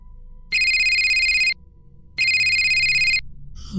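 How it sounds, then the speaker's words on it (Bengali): A mobile phone ringtone plays two loud, clear electronic bursts of about a second each with a short gap between them, then a soft rustle follows. "দু একবার রিং হতে"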